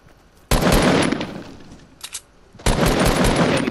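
Loud, close bursts of automatic gunfire in the video game Fortnite: two long sustained volleys separated by a brief pause with a few quieter shots, no talk.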